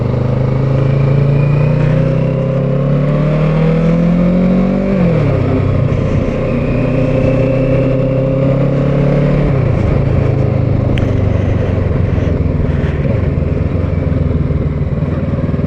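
A motorcycle ridden on the road on a ride home from work gives a loud, close engine drone that climbs in pitch, drops sharply at a gear change, then climbs and drops again, with wind noise throughout.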